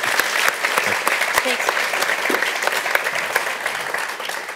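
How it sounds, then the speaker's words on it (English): Audience applause for panelists at the close of a quantum computing panel session, a steady round of many clapping hands with sharp individual claps standing out, and a brief spoken thanks. "Can we give them one more round of applause?"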